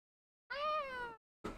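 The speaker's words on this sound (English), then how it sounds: "she has such a crunchy little meow" A cat named Nala gives one raspy, crackly meow, close and clear, lasting over half a second, followed by a brief rustling noise.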